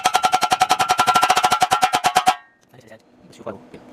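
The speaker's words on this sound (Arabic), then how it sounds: "نجرب تجربة ثانية لكن بنخلي اللحام كثيف" A new arc welding machine lays a thick weld bead on steel with a rapid, even, pulsing buzz for about two seconds, then cuts off, and a quiet voice follows.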